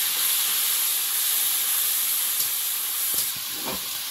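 Prawns hitting hot oil with panch phoron in a village kitchen, giving a loud, steady hiss that fills the whole clip, with a few faint knocks near the end and no speech.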